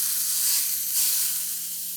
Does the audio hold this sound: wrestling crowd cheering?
no